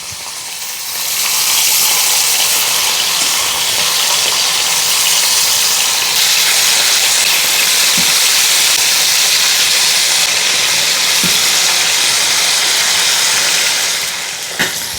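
Pork sizzles loudly in a hot pan for Kapampangan pork asado, a steady hissing crackle that swells in after the meat goes in and holds for a long stretch, with a few faint clinks.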